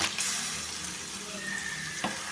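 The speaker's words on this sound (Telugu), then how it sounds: "ఇప్పుడు దీంట్లో మనం నీట్గా కట్ కడిగి ఉంచుకున్న ఈ రొయ్యల్ని వేసుకుంటున్నాను" Raw prawns drop into a pan of frying green chillies and onions: a soft, low sizzle with a faint scrape near the start and a brief clatter toward the end, quiet and close, with no talk.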